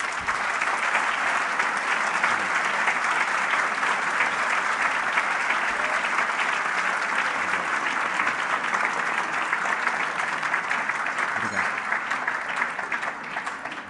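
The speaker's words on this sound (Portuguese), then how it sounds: "As palmas já dizem tudo aí" Sustained applause from a luncheon-debate audience after a political speech, a dense steady wash of clapping hands filling the whole stretch without a break and fading only slightly at the end.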